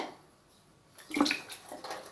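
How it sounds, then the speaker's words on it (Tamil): Water is splashed by hand across a kitchen surface during cleaning, a brief burst of close splattering and dripping after a quiet start. "எல்லா பக்கமும் ஒரு கை தண்ணியை தெளித்து விட்ருங்க"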